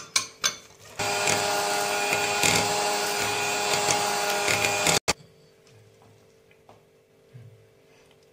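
An electric hand mixer beats red velvet cake batter after oil is poured in, a steady loud whirring drone running for about four seconds before cutting off abruptly, followed by quiet kitchen handling noises.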